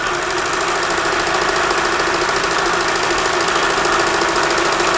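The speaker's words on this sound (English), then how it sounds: "And now you're ready to wind the bobbin." A vintage Kenmore sewing machine winds a bobbin with a steady, loud whirring motor hum that runs unbroken throughout, close by, with no talking.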